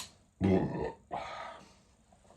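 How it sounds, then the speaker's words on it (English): Two deep, drawn-out burps in quick succession, close and fairly loud, the second one longer and rougher. "Oh, good burp."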